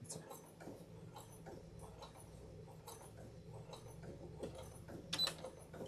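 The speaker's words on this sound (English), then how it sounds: "And I'm sewing along here." An electric sewing machine top-stitches a bag strap or handle with a faint, steady run of rapid mechanical ticks and a quiet whirr, ending in a short louder clatter.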